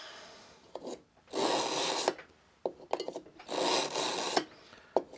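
A steel kitchen knife is drawn through a Wusthof carbide sharpener, with two long, loud rasping scrapes, each preceded by shorter scratchy strokes, all close and with no voices.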